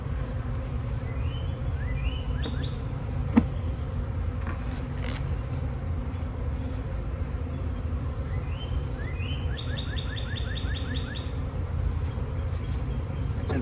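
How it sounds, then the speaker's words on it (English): A swarm of honey bees being relocated into a nuc box by a North Texas beekeeper gives a steady low buzzing drone outdoors, with a few faint bird chirps above it and a brief knock partway through. "the bees should find their way into the nuke box now that the queen is there"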